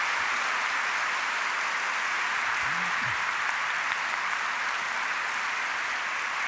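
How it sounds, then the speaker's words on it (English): Steady, dense audience applause at a panel discussion on Islam, a continuous even wash of clapping with no pauses throughout. "I just want to invite one more round of applause for all three of these panelists"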